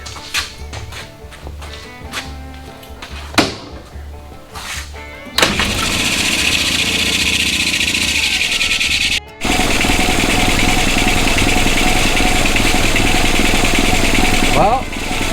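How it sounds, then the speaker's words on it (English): A small engine is cranked over in a few sputtering attempts, then catches and runs at a steady idle without the choke, briefly cutting out before picking straight back up; a voice speaks during the early attempts. "she's idling without the choke"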